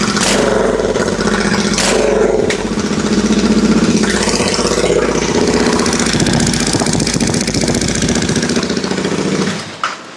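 A Royal Enfield GT 650 twin on its stock exhaust revs loudly up close, a deep rumbling engine note rising and holding under throttle before dropping off at the end.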